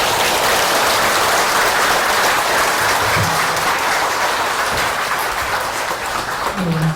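A large audience at a lecture on Chinese Buddhism by a monk applauds loudly and continuously, a dense wash of clapping that holds steady for the whole stretch.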